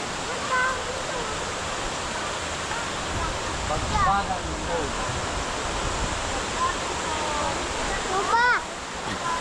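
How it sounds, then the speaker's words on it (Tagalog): Balagbag Falls roars in a steady, loud rush of falling water, with people's voices audible faintly over the constant wash. "Mga 2 to 3 minutes bago marating yung falls."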